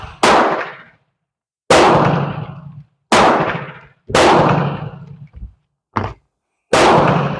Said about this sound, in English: I have no idea what that gentleman is shooting. Sounds like maybe a 9mm or a 350.